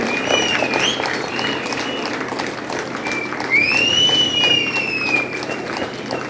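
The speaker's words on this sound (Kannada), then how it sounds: "ಎಲ್ಲರೂ ಚಪ್ಪಾಳೆ ಸೀಟಿ ಏನೇನಿದೆ ಎಲ್ಲ ಹಾಕ್ಬೇಕಪ್ಪ" Audience applause with whistles at the closing and award ceremony of the 11th May literary festival, a steady broadband clatter of clapping with several rising shrill whistles over it, sustained for several seconds.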